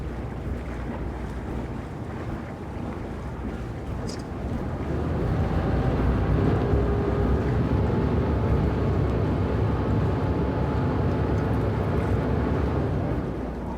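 Boat engine running steadily on the water just before the anchor is dropped, a continuous low rumble mixed with wind buffeting the microphone, growing somewhat louder partway through.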